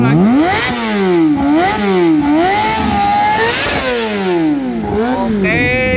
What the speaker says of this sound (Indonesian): Mari kita cek sound dan test rate knalpot Yoshimura untuk Kawasaki ZX25R